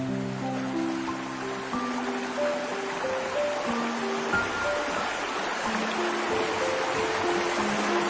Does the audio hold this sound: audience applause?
no